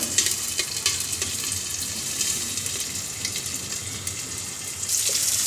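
Spices sizzle in oil and butter inside a covered wok kept for cooking meat, giving a steady close hiss with brief crackling bursts throughout.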